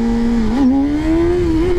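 A Triumph Daytona 600 sport motorcycle accelerates hard, its loud, close engine note climbing steadily in pitch with a slight dip at one gear change and no voices.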